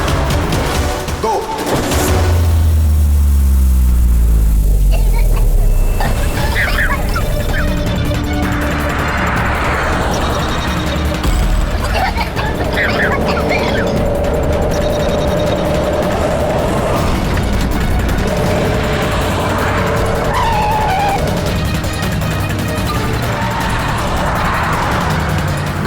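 A car speeds along and its tires skid, with a loud low rumble and a boom early on. Engine noise carries on under scattered voices.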